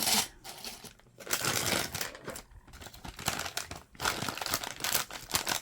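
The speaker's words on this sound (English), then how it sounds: "I'm going to open this up and let's cut it into the bag." Plastic bag being opened and cut with scissors while making a faux gumball machine craft, heard as loud bursts of crinkling and crackling separated by brief pauses, close up with no talking.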